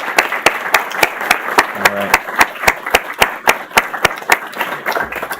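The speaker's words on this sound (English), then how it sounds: "Let's give them a big final round of applause." An awards audience gives a final round of applause, with steady, evenly spaced claps that carry on for several seconds. The sound is close and prominent, and a voice speaks briefly partway through.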